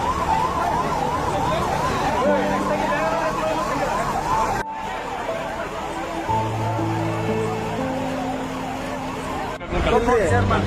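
An ambulance siren wails loudly and continuously at the scene of a KSRTC bus and lorry collision outside Devara Hippargi town, its rising and falling tone close by, with engine noise and voices mixed in.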